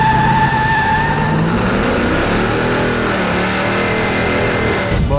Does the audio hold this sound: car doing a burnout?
yes